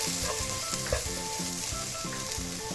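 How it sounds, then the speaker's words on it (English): Masala hits cooking vegetables in a pan for veg biryani, a loud steady sizzle with rhythmic stirring scrapes and no talking. "we'll add the masala that we had made."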